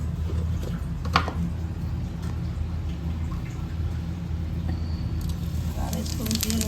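Cumin seeds fry in hot oil in a kadai, a steady close hiss of sizzling with light crackles and pops throughout.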